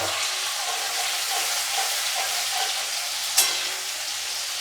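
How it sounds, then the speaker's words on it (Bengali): Tomatoes sauté in a pan for Bengali aloo jhol over a low flame, giving a steady, soft sizzle and frying hiss throughout, with a brief clink of utensil near the end. "যতক্ষণ না টমেটোটা নরম হয় ততক্ষণ একটু সাঁতলিয়ে নেব।"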